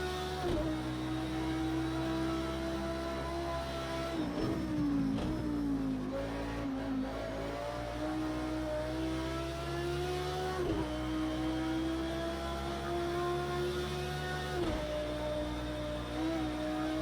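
Audi R8 LMS race car engine from Project CARS 2 at Bathurst, revving steadily with pitch climbing through the gears, brief dips at the shifts and a lift near the middle, loud and continuous without talk.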